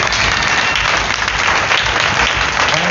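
A church congregation applauds loudly and steadily to acclaim the Lord, a dense, continuous wash of clapping that fills the space without a break.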